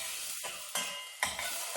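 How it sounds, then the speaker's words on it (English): Vegetables being stirred in hot oil in a soup pot over high heat, with steady frying sizzle and a few sharp scrapes and knocks of the spoon against the pot, close and fairly quiet with no talking. "And I'm going to give them a stir"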